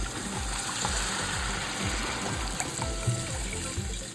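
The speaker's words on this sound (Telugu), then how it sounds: "వాటర్ యాడ్ చేసుకున్నాము." Water trickles and pours into a pan of fried spices, tomatoes and onions while making Maggi noodles, a steady close bubbling wash with faint clinks, no voices.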